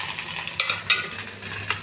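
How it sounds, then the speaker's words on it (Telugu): Sambar tempering of onion and garlic sizzles in a little hot oil, a close crackling fry with quick stirring scrapes and small pops. "వెలిగించి సాంబార్కి తాలింపు రెడీ చేసుకోవాలండి."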